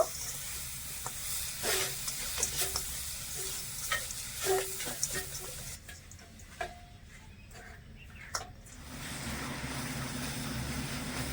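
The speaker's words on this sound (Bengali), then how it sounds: "এবারে নেড়ে চেড়ে গুড়টা গলিয়ে নেব" Patali jaggery is stirred in a pan as it melts, with soft scraping strokes and a low sizzle that thins out midway before a steadier hiss returns toward the end.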